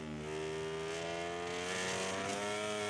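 A racing motorcycle engine in MotoGP 17, held at low revs coming out of corners, gives a steady, loud droning hum that carries without break, with no talk over it.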